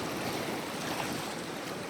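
Sea waves surge against a rocky shore during a coastal fishing outing, a faint, steady wash of rushing water with no distinct breaks.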